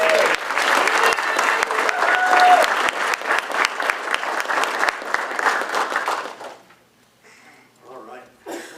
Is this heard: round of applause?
yes